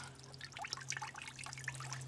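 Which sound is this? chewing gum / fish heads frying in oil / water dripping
water dripping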